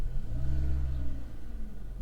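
A car engine missing its main crankshaft sensor revs up, a low droning rumble that climbs then stutters and sags as it hesitates, close and alone.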